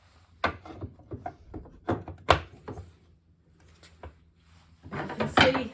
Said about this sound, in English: to open the hive.